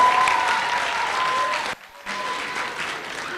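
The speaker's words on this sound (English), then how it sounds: "Can we get a round of applause for the Senator from New Jersey?" Applause from an audience at a student Senate simulation greets the senator from New Jersey, a dense steady wash of clapping that breaks off briefly near the middle and then resumes.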